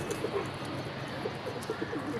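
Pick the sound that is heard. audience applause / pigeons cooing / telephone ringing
pigeons cooing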